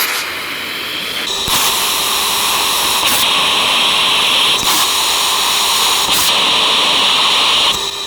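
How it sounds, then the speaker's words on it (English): JATO rockets fire on an RC rocket car, a loud continuous roaring hiss that holds steady for several seconds, broken by a few short surges in intensity. "Rockets are armed, firing in 3"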